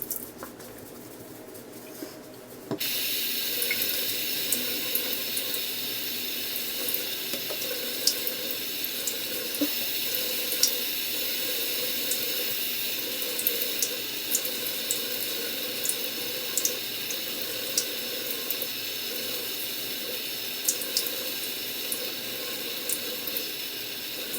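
A faucet gushes cold water steadily and close, splashing and pattering unevenly as it wets hair, continuous throughout after a brief quieter start.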